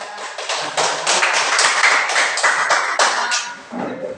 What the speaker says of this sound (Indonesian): Tepuk tangan dulu untuk semua kelompoknya